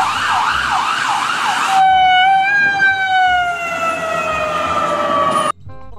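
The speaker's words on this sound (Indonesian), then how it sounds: "Kalau yang ini ambulans." A loud toy ambulance siren wails, sweeping up and down, then shifts to a steady descending tone as the vehicle passes, cutting off abruptly near the end.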